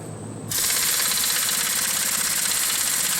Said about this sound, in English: This is a MG1200 Snap-on, 3/4 inch